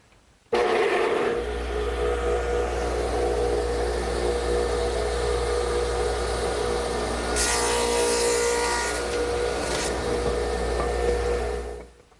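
A radial arm saw swung to 7.5 degrees cuts one side of a tenon for a cricket table, its motor starting abruptly into a loud steady whine and hum that holds for about eleven seconds, with a rougher cutting burst midway before spinning down.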